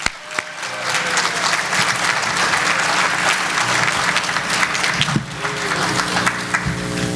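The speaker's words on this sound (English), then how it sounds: "So let's give them all a round of applause." Steady applause from a large audience at a charity housing gala and awards ceremony, sustained dense clapping filling the room for several seconds with a few brief dips.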